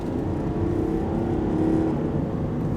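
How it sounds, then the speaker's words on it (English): A 2010 Volvo XC60 Summum's diesel engine pulls hard at full throttle out of a roundabout, with a steady, loud, low drone and a rising whirring tone heard from inside the cabin. "Yeah, it's a very pleasant engine, guys. This is Volvo's best diesel engine ever."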